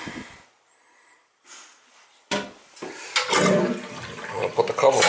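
A household toilet flushes antifreeze out of a winterized home's plumbing, a short clank and pause before a loud rushing swirl of water that grows and continues to the end, with someone speaking briefly.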